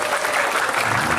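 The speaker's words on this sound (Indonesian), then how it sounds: "Tepuk tangan untuk para wisudawan wisudawati." Audience at an Islamic boarding school graduation ceremony applauding the graduates, a loud, dense burst of many people clapping at once, steady throughout the short stretch.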